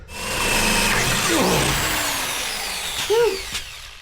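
A power drill bores into metal on a hot rod, with cutting fluid used during the job. The motor whines steadily at close range, then shifts pitch near the end with a short squeal.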